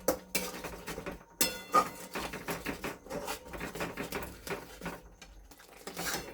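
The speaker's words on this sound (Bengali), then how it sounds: "খুব ভালো করে মশলাটাকে কষতে হবে।" A spice masala with cumin powder is stirred and sautéed in a pan for dimer kopta, a spoon scraping and clinking against the metal in quick irregular strokes, close but fairly quiet.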